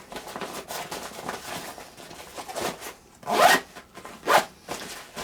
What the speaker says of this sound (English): give it a few zips.